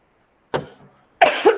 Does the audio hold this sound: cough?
yes